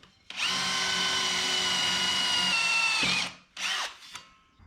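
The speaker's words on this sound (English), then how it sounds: "Step 2, pilot hole." A power drill bores a pilot hole during suspension work on a 1961 Parkwood wagon, one loud, steady whine of about three seconds, then two short bursts as it spins up again.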